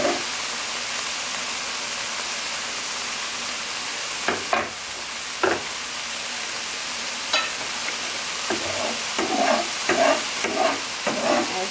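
Oyster mushrooms fry in a hot pan with a constant loud sizzle, broken by several scraping stirs and clatters of a utensil against the pan.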